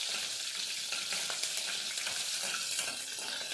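Green chillies with their seeds removed frying in hot oil in a pan for an avalakki breakfast dish, a steady dense sizzle close up with faint stirring scrapes and no voices.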